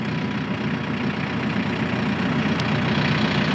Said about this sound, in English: I'm going to turn this on, and I want you to see the propellers. I want you to see the rotary cutter go around and around.